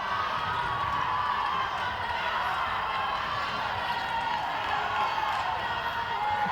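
Crowd cheering at a Botswana versus Samoa netball match, a dense continuous roar of voices and shouts at steady loudness, sounding distant and diffuse across the arena.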